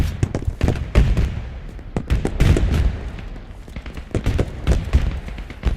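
High-explosive rounds fired in a military shooter game burst in a rapid, irregular string of loud, close thumps and cracks over several seconds, with no voices.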